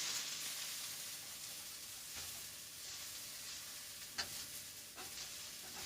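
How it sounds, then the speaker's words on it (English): Cabbage frying in a coated wok gives a steady, close sizzle with a few soft stirring scrapes and brief clatters, and no voices. "I am doing nothing more than frying cabbage"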